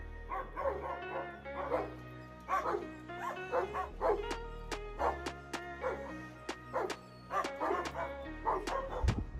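Several dogs bark and yip repeatedly from inside metal cages while a leopard prowls close by, with sharp, overlapping barks coming in uneven bursts across the whole stretch, loud and near.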